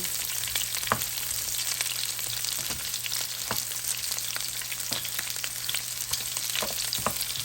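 Chopped onions fry in oil in a pan for pork adobo, a steady loud crackling sizzle close by, punctuated by occasional scrapes and taps of stirring.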